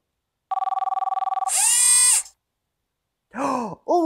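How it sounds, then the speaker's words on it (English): A phone rings with a rapid, pulsing electronic trill for about a second. A long breathy whoosh and short voiced exclamations follow, with nobody speaking. "Oh, it's my phone."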